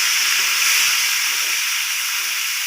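Chopped tomatoes hit a hot pan while a Mahurali fish dish cooks, giving a steady, loud, hissing sizzle that holds evenly throughout with no voices.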